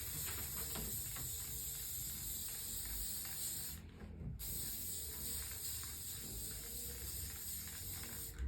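A spray can hisses in long, steady bursts while applying a finishing coat over a bead mosaic, pausing briefly midway before the spray resumes.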